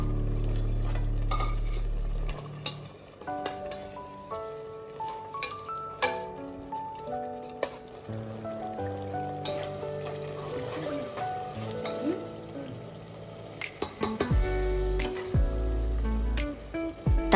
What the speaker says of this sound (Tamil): தக்காளி போட்டு அதையும் நல்லா வதக்கி விட்டுருங்க